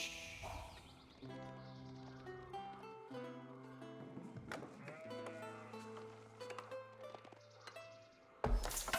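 In the real-time strategy game Age of Empires IV, a sheep bleats softly during a tournament match, mixed into a bed of in-game music and effects.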